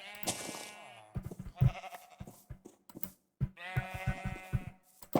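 Minecraft sheep bleat in two long harmonic bursts near the start and again around the four-second mark, loud and wavering, with speech and short clicks of play in between.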